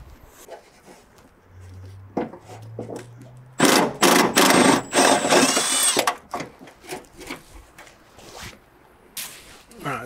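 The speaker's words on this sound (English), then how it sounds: "break out the Milwaukee, the little one, the Milwaukee stubby impact wrench." A Milwaukee stubby impact wrench removes bolts from the front wing of an MG TF, giving a couple of loud rattling hammering bursts lasting a second or two each, surrounded by clanks and handling noises close by.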